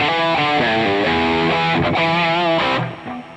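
Electric guitar played through an Amplitube 5 amp simulator with an overdrive pedal engaged, a few sustained distorted chords and notes ringing loud and alone, then fading at the end.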